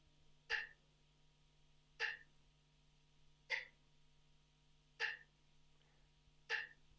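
A metronome clicking steadily at 40 beats per minute, five evenly spaced sharp ticks about 1.5 seconds apart, clear and alone over a faint steady hum.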